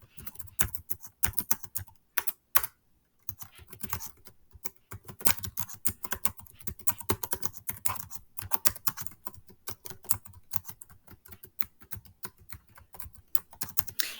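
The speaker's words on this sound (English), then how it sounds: "But if I keep typing," Rapid, steady clatter of keys on a computer keyboard, close and continuous with brief pauses, no voices.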